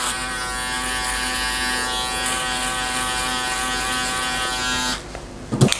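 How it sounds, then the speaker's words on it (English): An electric foil shaver buzzing steadily at close range while cutting hair during a barbershop skin fade, a constant high-pitched motor drone that cuts off near the end, followed by a few soft handling clicks. "I'm going to follow that by using the foil shaver and board out this bottom part here"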